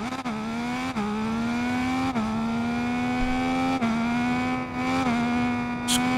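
Triumph race motorcycle engine in the RIDE 5 racing game, a loud close high-revving whine that climbs steadily and drops sharply at each gear shift, repeated several times.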